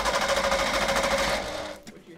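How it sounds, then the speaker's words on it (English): A loose muffler on a Ford truck rattles with a fast, steady metallic buzz, heard close and loud for most of the moment before it cuts off and drops away near the end. "What you're hearing in the back is the muffler rattling."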